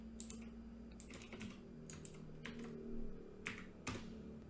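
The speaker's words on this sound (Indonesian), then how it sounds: "lalu kita ketik lagi first name, titik 2, John." Keys clacking in irregular bursts on a computer keyboard while code is typed, close and fairly quiet, with short pauses between runs of keystrokes.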